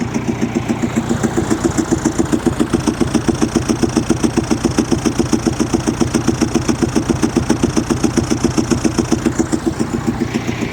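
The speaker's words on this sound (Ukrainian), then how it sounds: "щось в тракторі з'явився якийсь звук" A tractor engine idles close by, its exhaust chugging in a fast, steady, even rhythm, loud and unbroken throughout with no voices; the tractor has developed an unusual noise.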